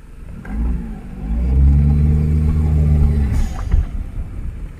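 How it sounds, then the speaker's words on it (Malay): A Perodua Kancil fitted with a heavy turbo engine revs up close, its low rumbling note climbing and holding steady before dropping back, loud and alone without talk. "Okey, enjin ni enjin heavy turbo."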